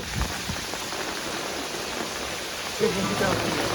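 Heavy village storm rain falls in a constant close hiss throughout, with a faint voice and a few bumps under it.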